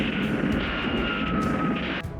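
An airplane in a kaiju anime roars past with a steady, loud engine drone and a high whine, a few faint impacts breaking through before the sound cuts off.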